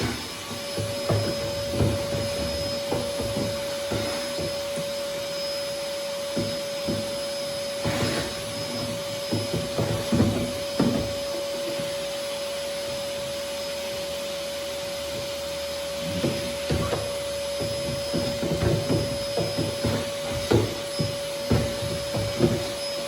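Vacuum cleaner sucking up wood shavings from under a Pelican Summit 100X fishing kayak, a steady close roar with a constant whine, punctuated by scraping and rattling as debris is drawn up the nozzle.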